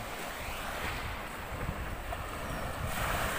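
Water sloshes and laps around a boat amid gusty wind noise, a continuous churning wash with no talking.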